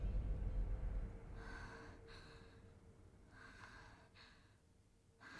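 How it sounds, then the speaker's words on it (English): Soft, rhythmic breathy pants from a character in the video game Sekiro, several short airy exhalations spaced a second or so apart over a low background hum, fairly quiet. "Scared that she's panting?"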